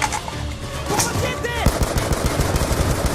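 Gunfire in the video game Black Ops 2: dense rapid automatic bursts rattle loudly and continuously, with a brief rising electronic whine just before the shooting intensifies.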